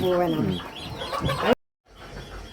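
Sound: Brahma rooster and chickens clucking

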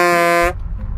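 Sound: vehicle horn

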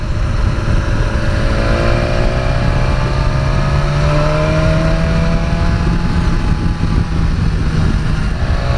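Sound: BMW S1000XR motorcycle engine note while riding

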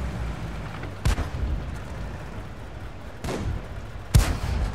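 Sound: tank gun shot in video game World of Tanks

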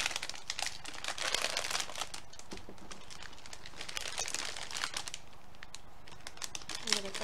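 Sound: crinkling plastic packaging of star mints

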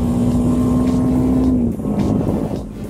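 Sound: BMW G310GS motorcycle accelerating to overtake

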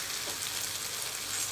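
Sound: stirring sizzling brinjal gravy in a pan

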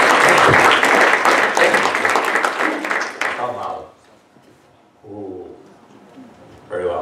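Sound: audience applause

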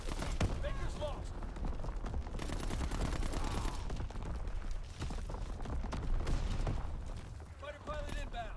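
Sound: video game aircraft strafing gunfire

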